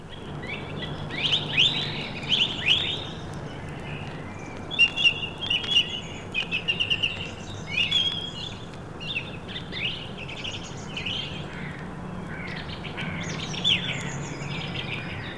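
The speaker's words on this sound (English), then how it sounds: "Here by the statue of Peter Pan in London's Kensington Gardens is an April dawn chorus of great tit, carrion crow," Great tits, carrion crows, song thrushes and blackbirds sing an April dawn chorus by the Peter Pan statue in London's Kensington Gardens, with overlapping chirps, whistled phrases and calls at moderate distance over a low city hum.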